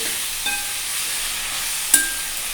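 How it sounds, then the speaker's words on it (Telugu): Washed potatoes tipped into a hot pan for aloo fry give a steady frying hiss, with a brief clatter near the start and a sharper splash of sizzle partway through, no voices. "మనం నీట్గా కడిగి పెట్టుకున్న ఆలుగడ్డ ఉంది కదండి అవి వేసుకొని"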